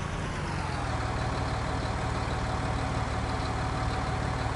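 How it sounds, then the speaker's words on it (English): A tractor engine in Farming Simulator 19 idling in a steady low rumble, constant and moderately loud with no change in pace. "That's an okay tractor noise?"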